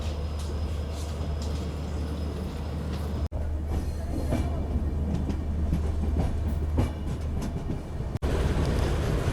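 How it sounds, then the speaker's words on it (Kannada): Onboard the Solapur Hassan Express as it pulls into Hassan junction, a steady, loud rolling rumble of wheels on rail carries a clickety-clack rhythm, broken by two brief drops in sound. "ಫೈನಲಿ ಎಂಟ್ರ್ ಆದೀವ್ರಿ ನಾವೀಗ ಹಾಸನ್ ಜಂಕ್ಷನಿಗೆ."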